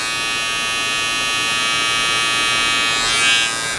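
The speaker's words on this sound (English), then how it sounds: "So as y'all hear, it's not like a clipper that doesn't have any power." A Vader hair trimmer runs steadily on its own, a close, continuous high-pitched electric buzz that holds constant for a few seconds.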